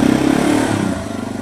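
A Yamaha TW200 motorcycle engine runs up close with a loud, pulsing mid-range drone as the bike pulls away and rides, steady and even, with no talking.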